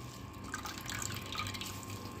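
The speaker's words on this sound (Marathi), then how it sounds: "आपण हे भोपळा किसलेल्याचं पाणी काढून घेऊयात।" Water drips and trickles as grated bottle gourd is squeezed by hand in a kitchen, a steady wet patter with small splashy bursts continuing throughout, moderately close.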